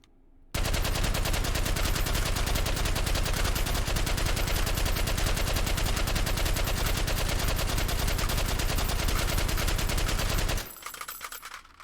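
Suppressed M60 machine gun in the VR shooting game H3VR, firing one long unbroken automatic burst of about ten seconds, loud and dense, then cutting off into a brief tail.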